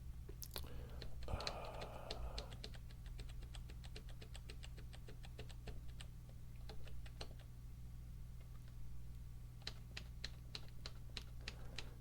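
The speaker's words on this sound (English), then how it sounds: "I haven't really paid that much attention to the clickety-clack of the keys when I'm doing the editing." Computer keyboard keys clicking during a Sokoban puzzle game session: quiet, close, irregular taps in bursts against a low steady hum, with brief soft whispered talk near the start.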